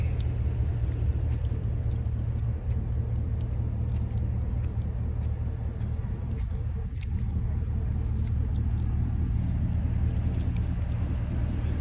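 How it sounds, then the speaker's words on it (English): A 2007 Chevrolet Silverado Classic 3500 dually work truck idling, a steady low engine rumble held throughout at close range, with faint clicks and rustles over it. "The truck is running."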